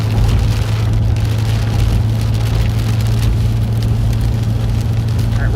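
Heavy rain pounds the roof and windshield of a storm chasing car on Interstate 70 at a squall line's leading edge, a steady, dense roar over a low engine and road drone throughout, with no talking.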